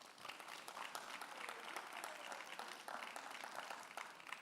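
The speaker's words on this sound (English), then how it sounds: "Please give him a round of applause." An indoor audience at a business social event applauds a city councilman with steady, dense clapping that sounds faint and somewhat distant.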